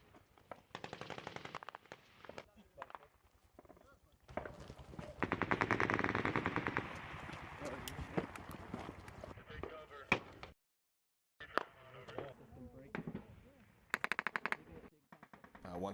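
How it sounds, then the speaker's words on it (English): Machine gun fire in combat in the mountains rattles in rapid bursts, loud and close, broken by brief pauses and a short silence, with people talking in between. "they opened up with a pretty good burst of machine gun fire from the west in the mountains"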